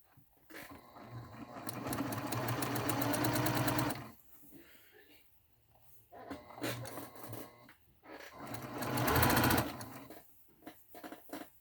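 A home sewing machine stitches fabric for a face mask in two bursts of fast, rhythmic clatter, a longer run at first and a shorter one later, with someone talking in between.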